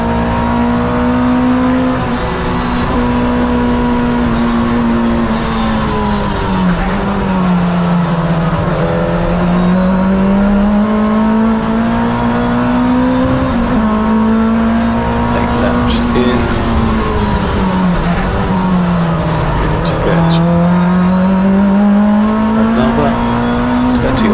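Touring race cars in a CSCC Tin Top race at Donington roar continuously at close range, their engine notes rising and falling through gear changes and corners in a loud, unbroken drone.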